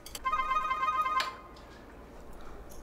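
An indoor telephone rings in a Korean home during a family meal. A single electronic ring burst lasts about a second, then gives way to quiet room tone.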